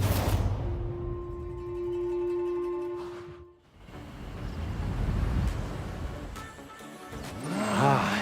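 Mazda MX-5 engine in the racing game Forza Horizon 6, holding a steady droning pitch, dropping into rough broadband noise, then climbing in a rising rev near the end.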